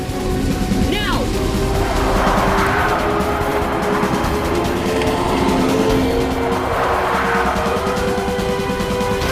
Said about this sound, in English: When I say, hit those brakes as hard as you can.